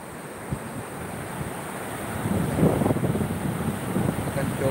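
Ocean waves roll and wind buffets the microphone at Pantai Kasih beach in Sabang during a surfing outing, a steady broadband roar that swells louder in the second half.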